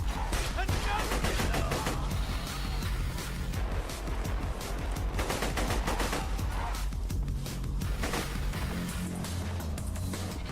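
Gunfire in Borderlands 2 rattles in dense, continuous volleys for the whole stretch, loud and close, mixed with other game effects and some talk.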